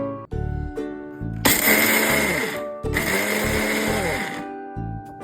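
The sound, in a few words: mixer grinder grinding spice powder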